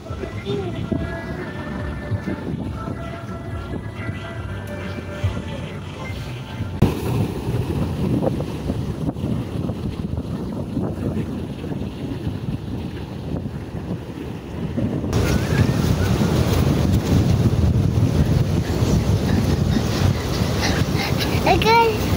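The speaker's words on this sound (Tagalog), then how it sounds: "kahit na sobrang lakas ng hangin" Strong wind blows outdoors on a family outing near the water, roaring continuously against the microphone and growing louder in the later part.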